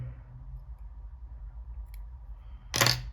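Scissors snipping legs off material while tying a streamer fly pattern at a desk: a single short sharp cut near the end after quiet low background hum.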